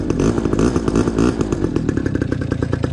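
A quad bike with new parts, its engine running cold while ridden gently, gives a loud close rattling buzz that holds steady with fast rhythmic pulses throughout, and no voices.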